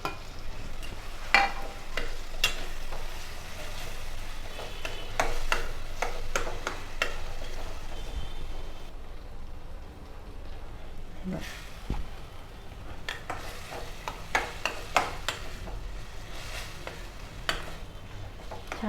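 Roasted, mashed brinjal is sautéed in a pan, a low sizzle with repeated scraping and tapping stirs that pause briefly mid-way before resuming.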